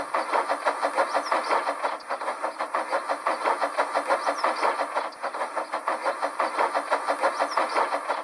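Steady rhythmic chugging of an engine, a regular pulsing beat that keeps going without a break, fairly loud and close, with no voices.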